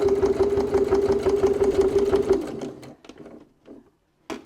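A sewing machine back stitches a wallet, running in a fast, steady mechanical chatter up close, then stopping and leaving a few short clicks and taps.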